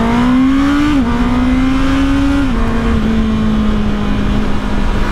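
A Honda motorcycle fitted with the E-Clutch system runs steadily while riding, its engine note dropping in pitch at two smooth gear shifts. The drone stays loud and close throughout, with no talk over it.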